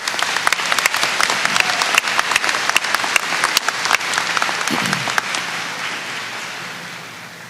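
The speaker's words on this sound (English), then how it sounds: "How about a round of applause for them?" A high school graduation audience applauds the chorus: dense, sustained clapping from a large crowd filling the room, steady and loud before gradually tapering near the end.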